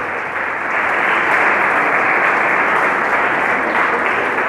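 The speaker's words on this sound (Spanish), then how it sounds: "¿Qué tal si le damos un aplauso a Jesús" A church congregation claps together in sustained, dense applause that stays loud and even throughout, with no voices rising above it.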